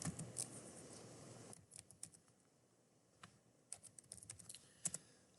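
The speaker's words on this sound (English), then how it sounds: "Let me go ahead and type this in" Keys tapped on a computer keyboard while entering text, a steady low clatter at first, then sparse, irregular clicks and short bursts of keystrokes, close and fairly quiet with no one talking.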